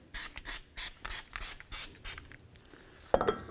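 Short hissing bursts of copper anti-seize sprayed inside the front hub of a 1999-2007 Ford F250, about eight quick puffs in a steady rhythm, close and fairly quiet, followed by a metallic clack near the end.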